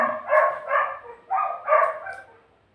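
A dog barks nearby, about four loud, sharp barks in quick succession, with the last one trailing off into quiet.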